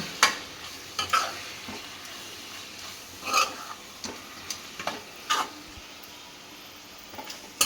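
Vangi bath powder and chili powder being stirred into a pan of vangi bath, giving irregular scraping and clinking spoon strokes over a soft sizzle.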